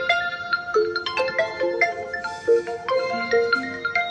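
A mobile phone plays a melodic ringtone while a call is placed, a bright tune of repeated short note phrases that is close and clear over about four seconds with no voices.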